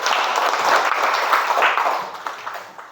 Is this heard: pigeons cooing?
no